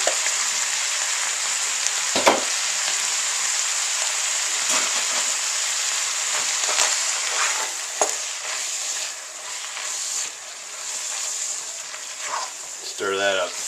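Ground beef with peppers, onions and garlic sizzles steadily in a pan throughout, with occasional stirring scrapes and a brief clatter near the end.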